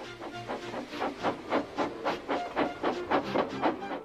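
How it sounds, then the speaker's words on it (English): A steam locomotive in a children's model-railway series chuffs and hisses as it blows off steam, a rhythmic series of noisy puffs with a steady hiss, fairly close. "Gordon, with much noise and blowing of steam, got ready to back onto the train."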